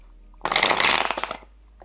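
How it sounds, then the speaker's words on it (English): Tarot cards shuffled briefly by hand, a close, crisp burst of rapid riffling flutter lasting about a second, ending in a few separate slaps as the deck settles, heard alone without speech. "when I shuffle cards out, I'm going to start getting messages"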